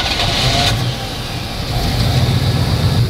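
A single cab truck engine runs steadily on a trailer while being warmed up, a loud, continuous low rumble that dips briefly and then rises again, with no talking.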